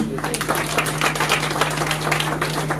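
Wedding guests at an evening reception clap and cheer in a steady, dense wash of applause that holds for the whole stretch, with a low electrical hum underneath.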